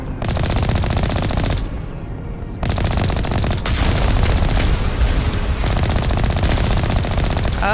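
Dense automatic turret gunfire in the video game Mass Effect Legendary Edition, a loud continuous rattle of rapid shots with booming impacts, briefly dropping out before resuming with sustained volleys.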